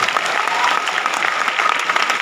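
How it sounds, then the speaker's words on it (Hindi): Sustained audience applause fills a hall at a diamond jubilee celebration in Varanasi, steady dense clapping throughout at close, even loudness with no voices over it. "मैं चाहता हूँ इस इंडस्ट्री के लिए जोरदार तालियां होनी चाहिए।"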